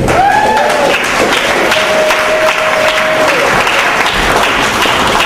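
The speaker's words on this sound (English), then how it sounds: "Applaud the least for the person you want to see removed." Audience applause during a Survivor-style elimination game, steady dense clapping from a crowd filling the whole stretch, loud and continuous with brief tonal whistles or squeaks over it.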